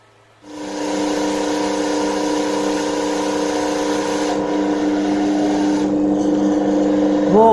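A universal motor, self-excited through an excitation capacitor, kicks in and runs with a steady, loud tonal hum that holds for several seconds and wavers slightly at the end.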